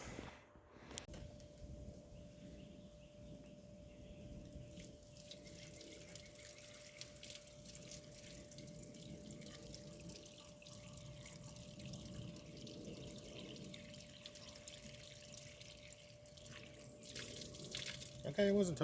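Water pouring and trickling into an old $500 Jeep, a steady close wash of running liquid that goes on for a long stretch with a faint constant tone beneath, ending in a few louder knocks.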